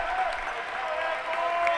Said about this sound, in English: I think I see the North Carolina women over there. Yep, they're clapping loud.